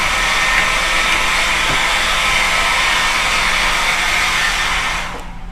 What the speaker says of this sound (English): This is a normal blow dryer